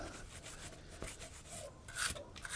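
A cheap wire brush scrubs goopy sludge off the cam bolt of an old MOPAR engine, making close, uneven scraping and rasping strokes with a sharper burst near the end.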